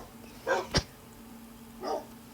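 Two short yips from a game wolf in a Minecraft wolves addon, well apart over a steady low electronic hum, with no talk.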